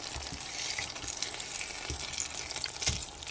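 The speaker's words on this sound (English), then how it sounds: "Spam is still going. It's slightly brown on the side, and you just want to flip it." Slices of Spam sizzle and spit in a hot pan, a dense, steady crackling hiss with small pops, close and continuous, browning on one side before flipping.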